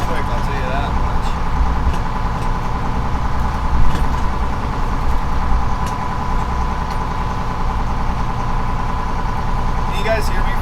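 A commercial salmon fishing boat's engine idles just under 1200 RPM off Alaska, a steady loud mid-range drone running without break beneath someone talking.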